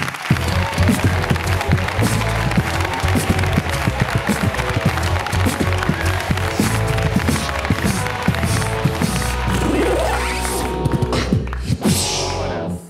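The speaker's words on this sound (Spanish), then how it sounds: "Un aplauso para Pantomima Full en la Resistencia." A studio audience at a late-night television comedy show applauds a comedy duo, with loud, dense and sustained clapping and cheering that fades out near the end.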